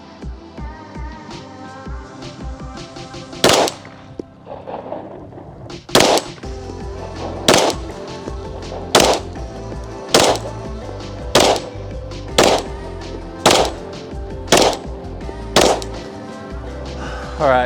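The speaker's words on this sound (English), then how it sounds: "So we'll go back there and shoot 10 rounds." A Shadow Systems XR920P pistol fires a string of sharp, loud shots, one early then a steady, evenly spaced run, with faint background noise between the reports.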